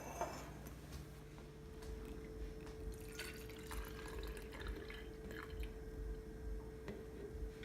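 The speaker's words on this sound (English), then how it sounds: "I'm gonna go ahead and pour my milk into the bottles and prep them all up" Breast milk poured into baby bottles during bottle prep, with soft faint drips and small liquid trickles over a steady low background hum, no talking.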